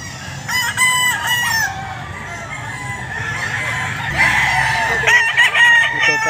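Boston Roundhead roosters and hens at a pet market crow and cluck repeatedly, several birds close by and fairly loud, with busy market background noise throughout.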